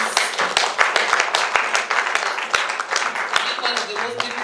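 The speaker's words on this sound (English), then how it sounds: "Let's give them another round of applause as they take their seats." Audience applause at a conference on sexual violence against men and boys in conflict, dense sustained clapping from a crowd for several seconds, with voices mixed in underneath.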